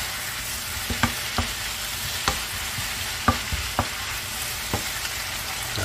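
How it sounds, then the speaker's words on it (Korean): Shrimp and squid are stir-fried with vegetables and soaked wood ear mushrooms for homemade seafood jjamppong, giving a steady close hiss of sizzling oil broken by scattered clicks and scrapes of the spatula tossing the pan, with no talking. "이제 새우랑 오징어도 넣어주시고요. 같이 볶아주도록 할게요."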